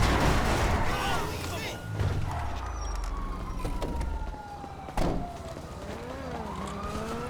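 Police siren wailing in GTA 5 while a car flees, a steady falling tone amid engine noise and bursts of game sound, with someone talking over it.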